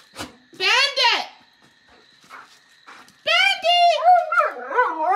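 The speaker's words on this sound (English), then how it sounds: "Oh, big dog." A big dog gives a couple of loud, drawn-out barks close by, with excited voices calling out around it.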